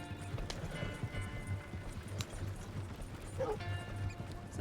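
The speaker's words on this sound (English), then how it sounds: "Some pretty horses." Horses trotting in Red Dead Redemption 2, a repeated clip-clop of hooves at an even rhythm, moderately close, with faint background noise.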